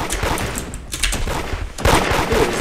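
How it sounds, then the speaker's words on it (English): Gunfire in the Roblox game Da Hood, a loud burst of rapid, clustered shots that fades briefly and then returns with another volley near the end, with no speech. "Why are you shooting me, Mr. Bumble?"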